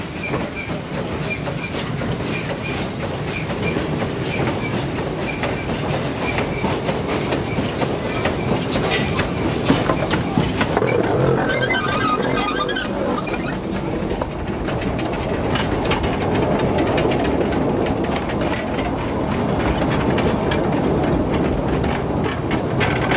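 A steam train on a 600 mm narrow-gauge field railway near Deinste runs past, its wheels clattering rhythmically over the track under a steady rumbling hiss that carries on without a break.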